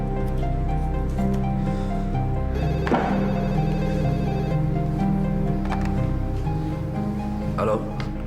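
Telephone bell ringing indoors in a drama scene, a continuous trilling ring held steady through the whole stretch, with brief thuds and movement noises near the middle and end.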